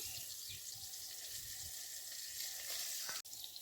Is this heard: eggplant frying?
yes